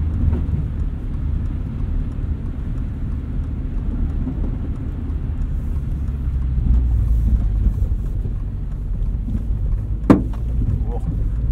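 A 2022 Subaru BRZ on Falken Winterpeak F-Ice 1 tires hums steadily while tires churn through wet snow and slush, with a low rumble throughout and a sharp thump near the end.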